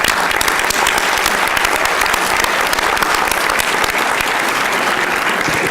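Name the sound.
audience applause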